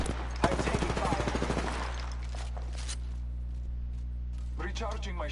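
A rapid burst of video-game gunfire crackles in the opening seconds, then fades to a low hum, while a voice speaks over the shots and again near the end.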